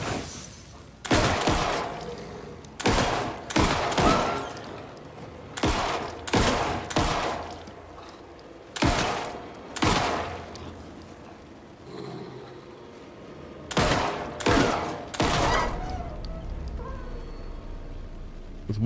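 Gunfire in the video game Alan Wake 2 comes as a series of loud, sharp shots in uneven bursts of two or three across the stretch, each with a brief echoing tail, with quiet gaps between.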